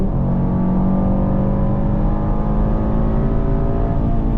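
A 2026 Mercedes GLE 63 S AMG accelerating hard on the German Autobahn, its engine a loud, steady roar with a slowly rising pitch, heard close from inside the car and carrying without a break, with no talking.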